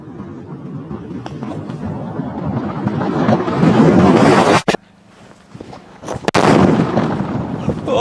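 A string of loud, rapid paper firecracker bangs crackles continuously, breaks off for a moment of near silence, then erupts again with sharp close blasts.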